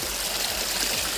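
A small river runs through a forest, flowing and trickling steadily with broadband water rush close to the listener, without a break and with no voices over it.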